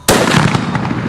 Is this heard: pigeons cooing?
no